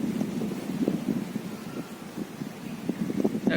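Strong hot wind in a village gusts across the microphone, a continuous low rumbling buffet that surges and eases unevenly, no voices.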